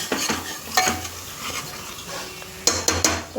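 Crushed roasted gram being stirred and lightly sautéed in a pan for a Marathi spiced matki curry, with a run of close spoon scrapes and clinks against the metal at intervals over a faint low hum.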